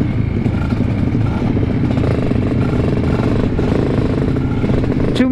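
Supermoto motorcycle engine running steadily while riding on an afternoon road ride, a continuous close, loud drone with slight rises in revs and no talk.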